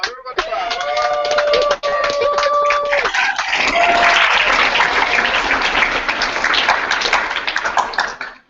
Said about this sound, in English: Everybody's cheering for you, Bob.